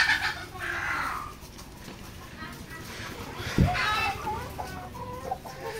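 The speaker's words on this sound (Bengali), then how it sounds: "এখানে 14 পিস মুরগি রয়েছে" A flock of about fourteen egg-laying hens clucks in their coop, with short nearby cackles and calls over a low background while someone talks throughout.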